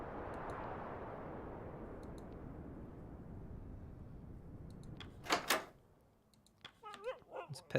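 Sled dogs in the polar survival game The Pale Beyond give a few short whimpers and yips. A long stretch of wind-like rushing comes first, and the dog sounds follow near and moderately loud.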